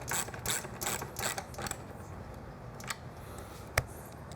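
A socket ratchet clicks in quick bursts early on while bolts are tightened on a Triumph Bonneville motorcycle. Later come a few sparse ticks and one sharp metallic clack near the end, all close and fairly quiet.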